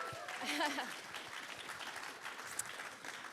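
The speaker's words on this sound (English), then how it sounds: "Can we get a little round of applause for everyone?" Brief applause from an audience for panelists at a data security event, moderate clapping that starts over a few spoken words from the host and continues steadily to the end.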